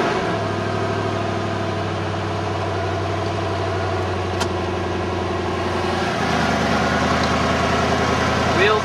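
A rebuilt 1998 Ford F-150 with a 5.4L Triton V8 and E4OD transmission idles steadily and close by, its low engine hum shifting to a rougher, louder note near the end.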